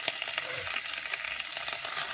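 Roughly chopped spinach dry-cooking in a hot pan with no oil or spices, giving a steady soft sizzle and crackle with faint stirring scrapes throughout, close and alone.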